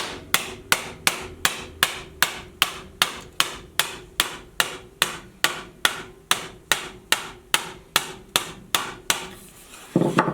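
A steady run of sharp hammer blows on wood, about two per second, evenly paced and close, with no voices, while building a garden trellis.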